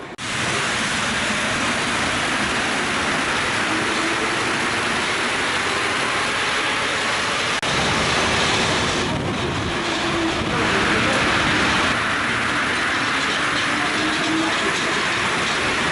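Paris Metro train running between La Motte-Picquet Grenelle and Pasteur, a steady loud rumble and roar of wheels on rails throughout, with a sharp click midway and shifting rattles near the end.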